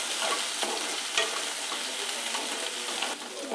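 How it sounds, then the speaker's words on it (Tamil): Chopped onions with fennel seeds and crushed garlic sauté in hot oil in a pan for a South Indian broad beans masala, a steady dense sizzle with occasional stirring scrapes, close and continuous. "வெங்காயம் நல்லா வதங்கணும்."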